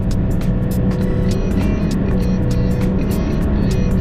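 A manual car's engine runs close by while the clutch is let out to its release point, a loud, steady droning hum with no speech over it.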